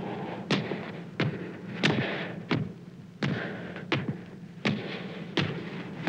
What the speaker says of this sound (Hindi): ये किसके पदचाप की ध्वनि है